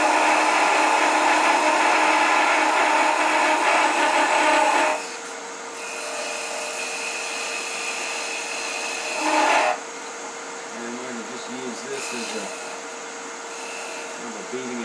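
A wood lathe whirs loudly as a parting tool cuts into spinning wood, easing off twice into quieter spinning with faint squeaky scraping.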